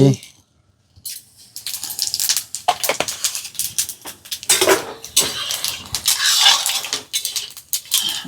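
Panch phoron spices, including cumin and fenugreek, are stirred in a cooking pot, with repeated close metallic scrapes and clatters of a spoon against the pot after a brief quiet start.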